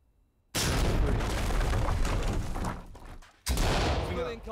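A flashbang grenade goes off in the tactical shooter Ready Or Not, a sudden loud broadband blast after near silence that rings out for about three seconds, then a second sharp burst of noise follows.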